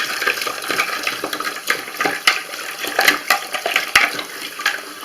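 Running water rinses kitchen sink trap parts, a loud close splashing stream with irregular bursts as pieces move under the flow.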